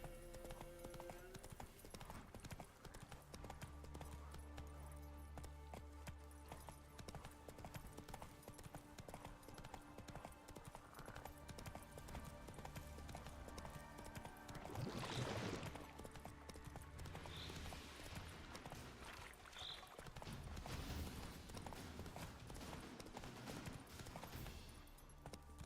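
Horse hooves clip-clop at a gallop in Witcher 3: Wild Hunt, a steady rhythmic beat under game music and ambience, with brief whinny-like bursts and a voice speaking now and then.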